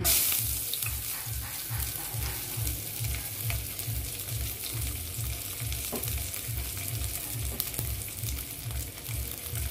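Ginger frying in a small amount of oil for a mung bean and glass noodle stir-fry, a steady close sizzle with a regular low rhythmic pulse underneath, carrying on without talk.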